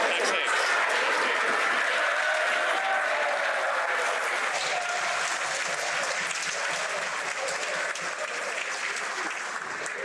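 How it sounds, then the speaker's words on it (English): Sustained applause fills the House of Commons chamber during a heated Canadian parliamentary exchange over tax cuts, a dense, loud wash of clapping that carries steadily throughout and fades only slightly toward the end. "We all like applause most of the time, but not necessarily always."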